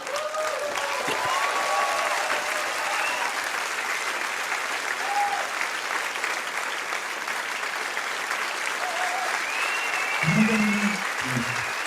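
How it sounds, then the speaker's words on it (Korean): Applause from a church congregation at a Thursday-class promotion and graduation service, a steady dense patter filling the room throughout with scattered voices and brief tones over it. "박수"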